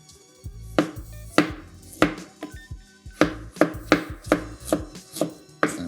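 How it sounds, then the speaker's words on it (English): Knife chopping a 1-inch piece of fresh ginger finely on a cutting board for black beans, a steady run of about a dozen crisp, close blade strikes with short pauses, no talking. "I want to try and mince the ginger as fine as possible"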